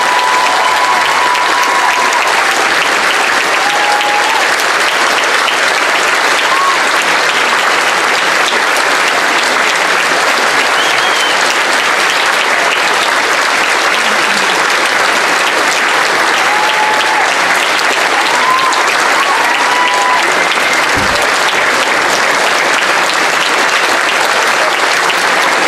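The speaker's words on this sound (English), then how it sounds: "Huge round of applause." A large crowd at a veterans' ceremony gives sustained, loud applause that fills the whole stretch with dense, continuous clapping and scattered cheers, with no speech over it.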